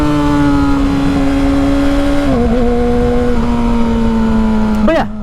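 A motorcycle engine runs loud and close, holding a steady revving drone that dips in pitch midway and surges sharply near the end, with a voice speaking over it.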